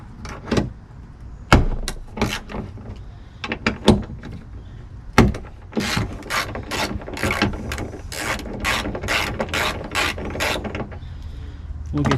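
Hood hinge bolts being loosened with a ratchet on a 2018 Nissan Pathfinder, close and loud: a few scattered clicks and knocks, then a fast, even run of sharp ratcheting clicks.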